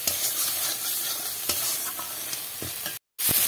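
Spice paste with bay leaves and a splash of water is sautéed and stirred in a pan for a vegetarian gathi kochu taro curry, a steady close sizzle broken by scraping spoon strokes, then a brief dropout before the frying resumes.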